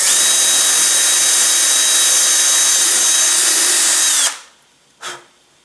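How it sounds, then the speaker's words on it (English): Power drill boring a screw hole with an 11/64 bit for a number 8 screw, a loud steady high whine running for about four seconds before winding down, then a brief faint tap, no talk. "After drilling the pilot hole, I'm going to step up to the full-size hole for the number 8 screw."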